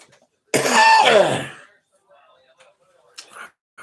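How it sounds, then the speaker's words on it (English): One harsh, raspy cough rings out close to the mic, followed by quiet breathing and a small throat sound after a pause. "I start choking and coughing again."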